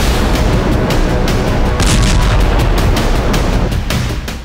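An animated AGM-114R9X Hellfire missile strike sound effect: a loud, dense roaring rush with repeated sharp impacts pulsing through it, fading slightly at the end, with no voices.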